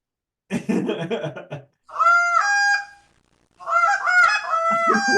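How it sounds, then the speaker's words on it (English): A Canada goose call, the handheld hunting kind, gives a string of loud, nasal honks in two bursts with a pause between them, after a short stretch of noisy talk at the start. "The goose call."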